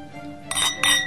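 Glasses clink twice in quick succession during a toast at a meal, two bright, close chimes about a third of a second apart.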